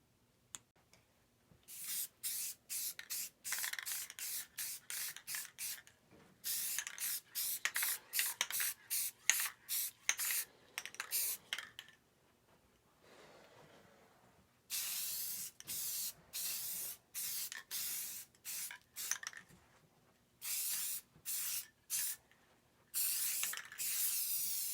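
An aerosol can of anodized bronze spray paint hisses in short, repeated bursts at close range, with brief pauses between passes.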